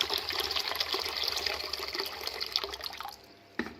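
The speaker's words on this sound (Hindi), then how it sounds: "और अब मैंने गर्म पानी कर दिया था, तो इसमें मैं गर्म पानी डाल दूँगी।" Hot water is poured into a bowl containing salt, a loud splashing, bubbling stream for about three seconds that stops abruptly, followed by a short clunk.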